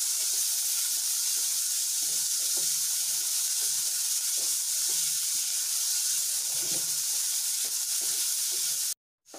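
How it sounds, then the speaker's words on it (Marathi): Onion frying in a pan for a Marathi urad bhaji, a steady close sizzle and hiss with faint stirring clicks, running continuously and cutting out briefly near the end. "कांदा छान असा गोल्डन कलरचा झालेला आहे"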